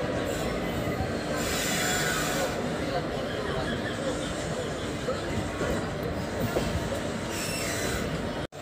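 A passenger train pulls away from a station after a stop on a route in northern India. Loud, dense rumble and steady rolling noise fill the whole clip, likely with talk underneath.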